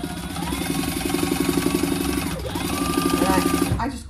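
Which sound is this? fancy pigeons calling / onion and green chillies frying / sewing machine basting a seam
sewing machine basting a seam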